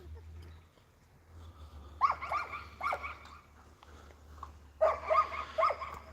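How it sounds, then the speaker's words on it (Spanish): Foxhound barking in two short bursts of several barks each, moderately near, over a steady low hum, with quiet stretches between. "Eres un perro zorrero."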